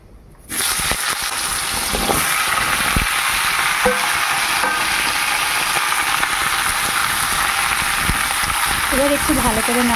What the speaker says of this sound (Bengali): এবার আমি দিয়ে দেবো সবজিগুলো, কেটে রাখা সবজিগুলো দিয়ে দিচ্ছি।